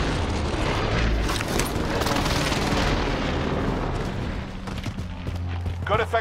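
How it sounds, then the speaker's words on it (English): Enemy precision airstrike in a shooter video game: a heavy, continuous barrage of booming explosions and rumbling impacts that stays loud throughout, with crackling debris near the end. "Strike inbound. Enemy precision airstrike."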